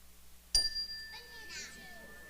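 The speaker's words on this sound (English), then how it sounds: "when you hear the chime, we're going to all say them until you hear the chime again" A chime rung to mark a group speaking exercise rings out as a bright, sustained metallic tone that decays slowly, followed by faint voices of a group talking softly beneath it.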